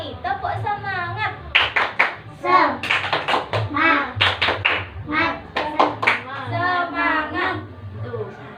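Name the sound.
class doing the 'tepuk semangat' rhythmic clapping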